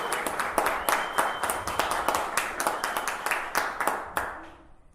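Audience applause for women being honored at a leadership talk, steady dense clapping for several seconds that fades out toward the end.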